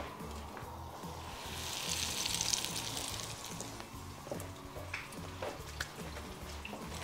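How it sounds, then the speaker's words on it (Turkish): Chicken hits hot frying oil and the sizzle swells into a steady, crackling fry, with small pops and spatters throughout. "tavuğumuzu şimdi kızartma yağımızın içerisine alıyoruz"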